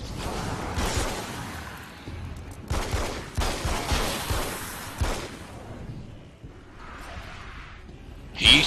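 Video game gunfire from a shooter fighting swarms of small enemies, with rapid bursts of shots clustered in several volleys and brief pauses between them, followed by a whooshing sweep near the end.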